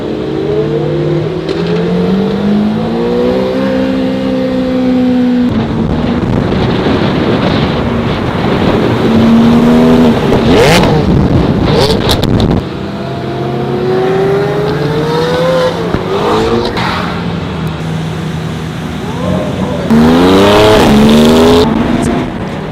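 A McLaren supercar drives at low speed, its engine droning and shifting pitch over several stretches, with heavy wind buffeting the microphone and brief louder surges near the end.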